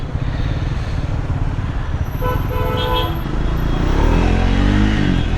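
A Triumph Scrambler 400 X motorcycle rides along with a steady, close engine drone. Near the end, the engine pitch rises as it pulls up through the gears.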